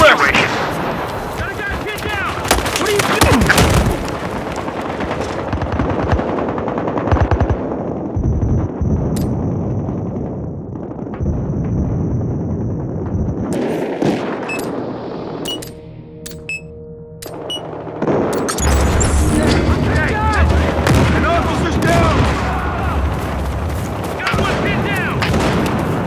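Heavy gunfire in Battlefield Hardline on the Hollywood Heights map, dense loud bursts and booming shots that keep going almost without a break, with a short quieter lull midway before intense firing resumes.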